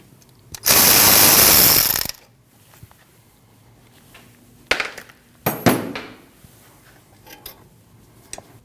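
An 8mm bolt on a 2013-2019 Ford Escape front brake hose strut bracket is worked loose: a loud, sustained ratchet whir for over a second, then several sharp metallic clicks and knocks close by, with no talking.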